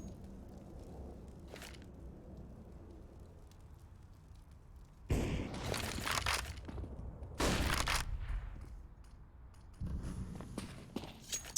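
Bursts of submachine gun fire in a Counter-Strike match on the Overpass map, loud broadband volleys arriving in three or four clusters between quieter stretches of footsteps, with no voices.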